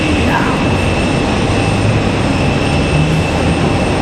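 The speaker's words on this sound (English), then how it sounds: "That UPS MD-11 headed back to Worldport in Louisville," A UPS MD-11 jet departs Raleigh Durham International Airport in stormy weather, bound for Worldport in Louisville; a loud, steady broadband engine roar fills the whole span without a break.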